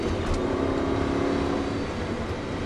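An Aston Martin engine accelerates during a driving course, a continuous close, loud engine roar holding steady through the short stretch.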